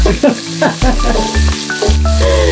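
Ginger sizzles and fries in hot oil in a pan for bopis, a loud, steady crackle that carries through the short stretch with a few clinks and stirring knocks.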